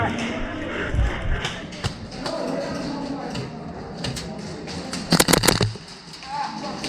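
Airsoft guns fire during an outdoor competition, giving sharp scattered pops and a quick rapid burst of shots amid people talking and shouting nearby.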